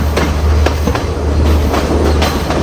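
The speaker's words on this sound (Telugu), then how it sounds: "అందుకే ట్రైన్ స్లోగా వెళ్తుంది." The Ella Odyssey Express tourist train in Sri Lanka rolls slowly along the line, with a loud, close low rumble and a sharp clickety-clack of wheels over rail joints recurring every half second or so.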